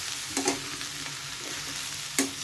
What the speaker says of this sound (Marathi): असं परतत राहूया आणि 1-2 मिनिटं ह्याला झाकून ठेवूया।